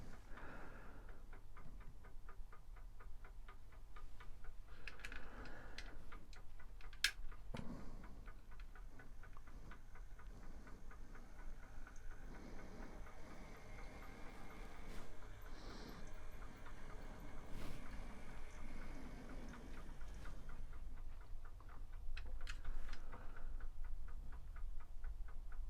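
A Rapido OO gauge Hunslet model locomotive runs steadily along track, making a quiet, continuous mechanical whir with faint rhythmic ticking from wheels and motor throughout, no voices.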